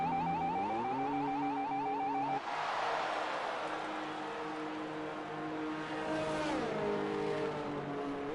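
A Formula 1 car in a video game creeps along the pit lane at the French Grand Prix, its engine holding a steady limited tone with a shift midway and a brief louder burst, continuous and fairly close throughout.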